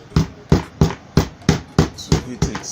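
A hammer strikes Ankara fabric slippers to firm them, giving eight evenly spaced, close, solid thuds about every third of a second, with no talk over them.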